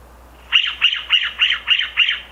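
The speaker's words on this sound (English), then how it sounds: "I believe that is a western scrub jay" A western scrub jay gives six harsh, rasping squawks in a quick, even series, loud and close against a quiet outdoor background.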